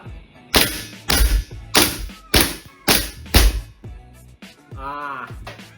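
A WE Desert Eagle gas blowback BB pistol fires about six sharp, snappy pops at a steady pace, close and loud, followed by softer mechanical clicks and a brief voice at the end.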